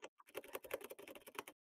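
A computer keyboard clatters with rapid, irregular keystrokes during a session of the War Thunder video game, a close burst of distinct clicks with no voices.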